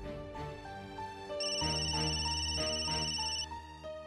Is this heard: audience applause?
no